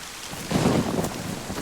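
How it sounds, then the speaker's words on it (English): Rain falls in the survival video game DayZ on the Deer Isle map, a steady hiss of rainfall with a low rumbling swell, continuous and moderately loud with no speech. "Oh, I love the rain."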